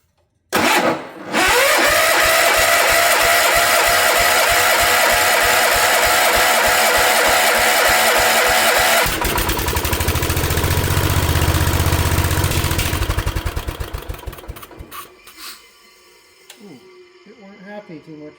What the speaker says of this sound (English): So I'm going to crank the engine